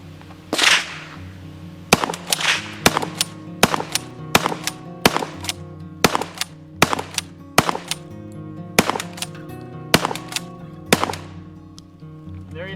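Repeated shots from a shotgun fed by a modified SAP 6 magazine in a PM5, about a dozen loud sharp reports at a fairly even pace, each with a ringing tail, outdoors with no talking.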